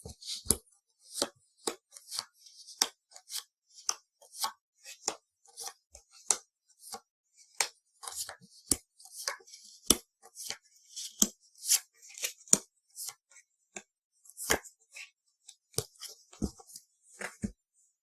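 Tarot cards are handled and shuffled close up in a quiet room, producing dozens of sharp, crisp taps and flicks in an irregular, steady rhythm with no talking.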